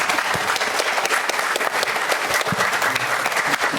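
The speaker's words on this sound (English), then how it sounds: "Yep, you can give a clap." An audience at a legal conference applauds a panel discussion, with steady, dense clapping throughout the short stretch and no voices over it.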